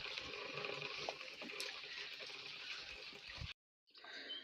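Water is poured out for farm animals in a rural village on a rainy evening, a steady splashing gush that runs for several seconds, stops abruptly, then resumes briefly.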